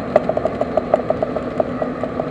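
A new truck's engine turning at low RPM, around 1,000 revs, while cruising at about 46 mph; a steady low drone with a regular soft pulsing beat throughout, close and fairly loud.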